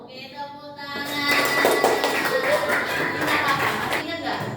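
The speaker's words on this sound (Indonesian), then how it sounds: "Oke, tepuk tangan." Group clapping in a teacher coaching session, with a voice at first before a crowd of hands breaks into steady applause that builds and holds at moderate loudness, with voices mixed in.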